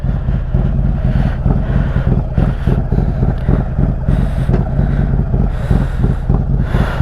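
A motorcycle on the road, rider wearing Indie Ridge gloves and boots, gives a constant loud rumble buried under heavy wind buffeting the microphone, steady throughout with no talk.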